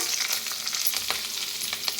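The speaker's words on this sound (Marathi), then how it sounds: "आता त्याच्यात टाकूया मिरच्या" Green chillies drop into a hot tempering of curry leaves and asafoetida for a pea kadhi, crackling and sizzling steadily up close with bright spitting bursts throughout.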